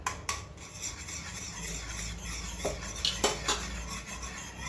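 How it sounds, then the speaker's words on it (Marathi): Homemade chhena being stirred in a pan over low heat for saffron barfi, giving a steady scraping, rubbing sound with a few sharper clinks of utensil on metal. "त्याच्यात आपण थोडा छेना घालायचा आपण बनवलेला आणि हलवत राहायचं"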